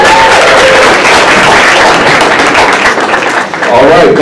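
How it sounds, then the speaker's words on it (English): Applause from an audience at a Black History Month kickoff celebration, loud, dense clapping and crowd noise filling the room throughout. "Another round of applause, please"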